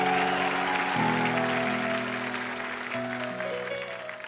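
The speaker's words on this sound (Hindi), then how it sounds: "तो एक बार जोरदार तालियां हो जाएं" Studio audience applause on a Hindi comedy talk show stage, steady and fairly loud across the whole stretch, with musical tones sounding underneath.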